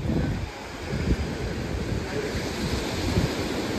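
Sea waves wash along the Konkan coast in a continuous, rumbling surf that swells and eases, mixed with steady wind buffeting the microphone.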